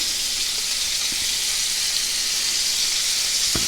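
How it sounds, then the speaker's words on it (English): Pork tenderloin medallions sear in a hot pan with a steady, loud broadband sizzle that holds for the whole stretch, with a few soft clicks and pops near the end. "the idea right now is to sear them, or if you will, braise them"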